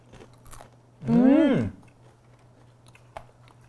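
Dry roasted silkworm pupae, an edible insect snack, crunched between the teeth in one loud burst of chewing lasting about half a second, with a faint background hum and quiet surroundings before and after.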